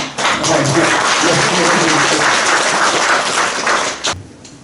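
Audience applause at a lecture hall talk, a dense sustained round of clapping from a crowd, loud and steady for about four seconds before it quickly dies away.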